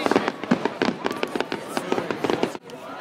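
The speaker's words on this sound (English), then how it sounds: "So I'll show you the fireworks right now." Rapid Canada Day fireworks bursts crackle and pop in a dense, continuous barrage, loud and close, with a brief drop to near quiet at the end.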